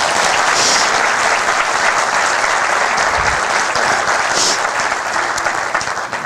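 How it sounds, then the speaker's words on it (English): Strong, continuous applause rises from the audience at a city's State of the City address in Edmonds, a full, even round of clapping that holds for about six seconds before tapering. "They need a round of applause."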